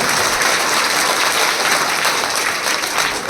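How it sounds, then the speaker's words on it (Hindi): Enthusiastic applause at a girls' school function in Rajasar, honoring two girls selected for the Gargi award in Class 10; dense, steady clapping from a sizable crowd fills the whole moment, loud and continuous without voices. "इस विद्यालय की बड़ी खुशी की बात है कि 2 बालिकाओं ने 10वीं क्लास के अंदर गार्गी पुरस्कार में चयन हुई है, उसके लिए जोरदार तालियां बजाइए"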